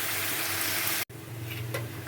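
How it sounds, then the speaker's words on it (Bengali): Potatoes and onions sizzle steadily in a pan, a close, even frying hiss that cuts out for a moment and then resumes, with faint stirring and no talking. "আলু পেঁয়াজটা আমার অনেকটাই ভাজা হয়ে গেছে"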